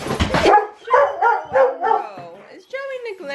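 Puppies bark and yip in short, close bursts at home, mixed with excited talking in between.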